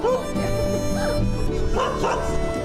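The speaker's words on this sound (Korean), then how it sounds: "막 강아지 짖는 소리도 들리고" Dogs bark and yip in a sunny alley of Oncheon-dong, an old fishing village in Mokpo, South Korea. The barks are steady and overlapping, set against a busy, continuous neighborhood background.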